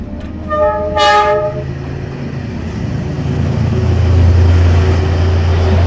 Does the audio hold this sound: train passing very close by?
yes